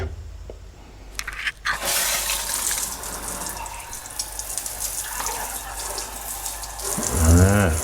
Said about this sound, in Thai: น้ำแรงนะ น้ำแรง